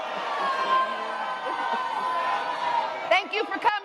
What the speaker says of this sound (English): Your boos mean nothing.